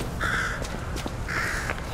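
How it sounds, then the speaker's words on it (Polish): Crows caw in the video game Lies of P, two harsh drawn-out calls a second apart, clear and fairly close over a low background rumble. "czy kruki też są marionetkowe?"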